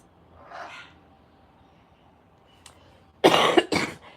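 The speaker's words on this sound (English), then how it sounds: "I have this dry cough since I got back." A faint sound early on, then two sharp, dry coughs in quick succession from a talking parrot, close by and loud after a quiet pause.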